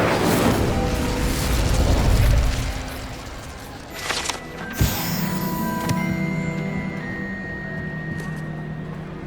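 Incendio fire spell cast in the Hogwarts Legacy video game, a burst of booming, crackling blasts with sharp pops near the middle, followed by ringing tonal effects fading out.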